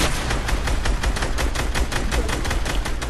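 Continuous rapid gunfire in Fortnite, shots aimed at a tree, a steady dense stream of loud close-up reports with no pause over three seconds.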